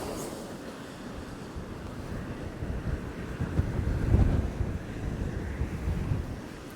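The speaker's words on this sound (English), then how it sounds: "You can hear the wind's a bit stronger here." Wind blows hard across the open, exposed ground at Loch Etive in the Scottish Highlands, buffeting the microphone with a continuous loud rumbling roar that swells and gusts throughout.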